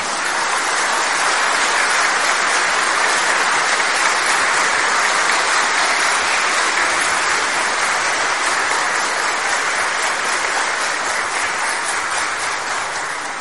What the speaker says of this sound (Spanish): nuestros fuertes y calurosos aplausos